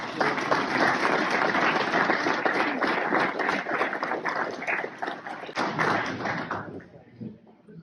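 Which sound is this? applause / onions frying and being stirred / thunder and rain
applause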